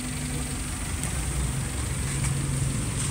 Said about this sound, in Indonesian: Suaranya hanya suara injektor saja.